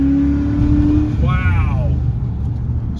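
A truck engine revs after an ATF engine de-sludge, a sweeping rise in pitch around the middle over a continuous running drone, while someone talks excitedly.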